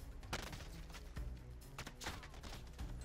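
Warzone gunfire crackles in quick, faint bursts of shots amid game noise, with sharp pops repeating across a few seconds.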